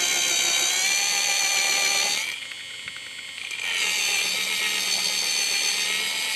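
A small mini pottery wheel spins with a steady high motor whine that briefly drops away as it slows, then returns at full speed.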